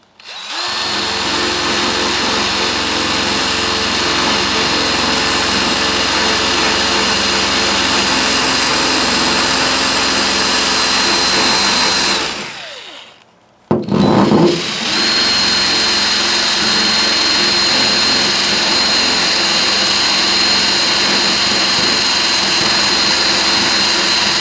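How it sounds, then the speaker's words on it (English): A small handheld drill fitted with a wire brush scrubs around a leaking rivet on an aluminum jon boat: a loud, steady high-pitched whine that cuts out briefly halfway, then resumes just as loud. "is my little drill. It's got a little wire brush on it. That's what we're going to use to clean up the spot."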